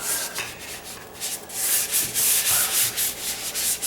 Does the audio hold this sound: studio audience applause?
no